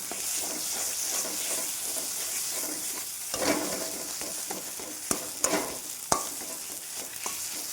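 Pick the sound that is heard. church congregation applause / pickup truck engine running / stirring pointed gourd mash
stirring pointed gourd mash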